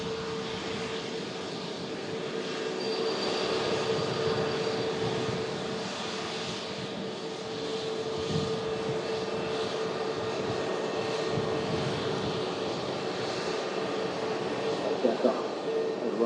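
A Jet2 Boeing 737 at Manchester Airport just after pushback, engines running while it awaits taxi clearance, a steady loud turbine roar with a sustained whine over the whole stretch and a voice over the top.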